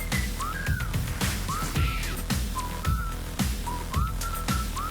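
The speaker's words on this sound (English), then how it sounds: "I don't understand the whistling part." A melodic whistled line from a 1980s-style anime opening song, with short rising and falling whistle phrases repeating over a punchy beat and backing music at moderate volume.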